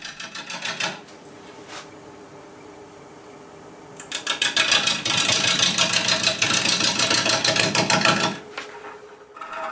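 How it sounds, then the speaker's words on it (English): Wood lathe spinning an urban lumber bowl blank as a gouge braced on the tool rest makes scooping cuts, a rapid rhythmic chattering that swells loud for several seconds between quieter stretches of steady hum. "try pinning the gouge to the tool rest to form a fulcrum and make several scooping cuts"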